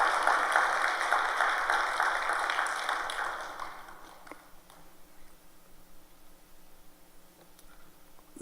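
A church congregation applauds, a broad wash of clapping that is loud at first and then thins out and fades to quiet over several seconds.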